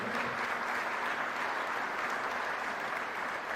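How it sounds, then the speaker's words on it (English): A crowd applauding steadily, a dense and continuous wash of clapping that holds at an even level throughout, with no voices standing out. "Let's give them all a round of applause."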